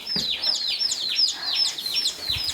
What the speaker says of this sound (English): I have one Australorp? Australorp. He's a fighter.